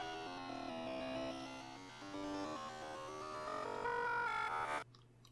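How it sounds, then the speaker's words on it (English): Garbled, warbling phone-call static from the video game Deltarune, heard when calling on a cell phone: a steady, dense synthetic noise with wavering tones that runs for about five seconds, then cuts off abruptly. "It's nothing but garbage noise."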